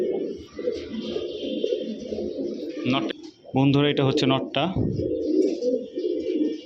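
Giribaz and coloured fancy pigeons in a breeder's collection coo steadily and close by, while someone talks over the birds for most of the stretch.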